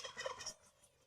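A turkey found at an abandoned zoo gobbles in a quick rattling burst, loud and close, then fades to quiet background.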